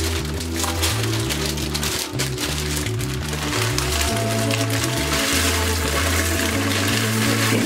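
Regular egg noodles boiling in a pot of water, a continuous bubbling and rolling churn close by, steady and fairly loud with no speech.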